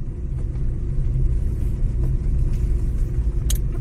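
A car drives on a road at night near Jim Corbett National Park, its engine and tyre rumble loud and steady from inside the vehicle, with no talk over it.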